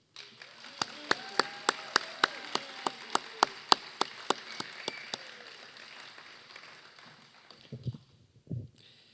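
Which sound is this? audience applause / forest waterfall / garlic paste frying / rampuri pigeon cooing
audience applause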